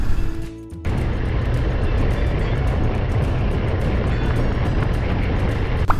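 Riding a BMW F900R motorcycle: a loud, continuous roar of engine and wind noise that stays steady and close throughout.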